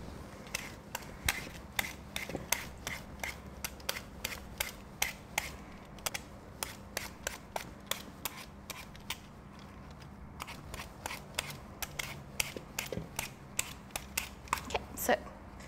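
Apples being peeled make quick, repeated scraping clicks in an irregular but steady rhythm, quiet and close, continuing for about fifteen seconds against a low background hum.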